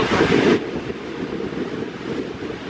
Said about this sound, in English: It's gray, rainy, and really windy